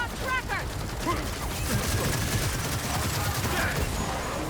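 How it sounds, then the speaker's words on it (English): Sustained automatic chain gun fire in the Gears of War 4 video game, a dense continuous rattle of shots lasting throughout, with voices talking over the barrage. "whenever you have things like that with the chain guns, and then they can just lay into you"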